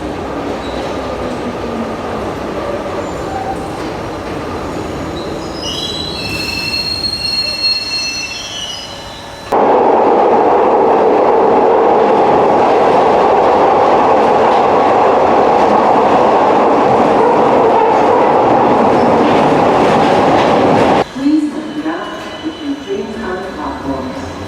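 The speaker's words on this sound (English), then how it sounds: "So we're now on the subway platforms at Partick, just waiting for a train" A Glasgow Subway train pulls into the underground platform at Partick with loud wheel squeals, then a sustained close roar and rumble as it passes and stops, followed by a voice and platform clatter.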